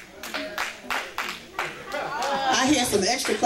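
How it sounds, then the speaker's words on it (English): Family members clap from the back of an audience at a civil-rights-related event, a handful of distinct hand claps early on, then a louder stretch of clapping mixed with talk and laughter. "I hear some extra clapping back there from the family."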